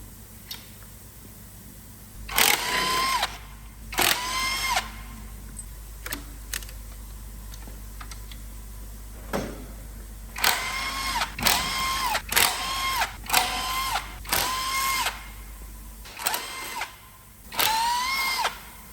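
A power tool spins bolts loose on a Scania DC13 truck engine during teardown, giving repeated short, loud whirring bursts, some in quick clusters, over a steady low background hum.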